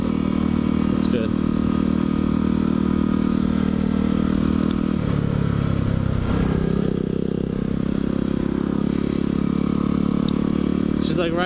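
A motorcycle rides slowly through town in Lakewood, New Jersey, its engine droning loudly and steadily with rises and dips in pitch, heard up close from the rider's position amid road noise.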